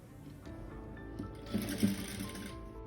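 A sewing machine stitches lehenga fabric, whirring steadily and close, with a brief busier run of stitching partway through and no talking.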